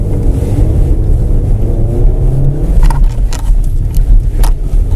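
A Hyundai Santa Fe engine labours off-road with all-wheel drive engaged, a steady low rumble that swells and revs unevenly as the SUV climbs, with brief scraping and knocking noises near the end.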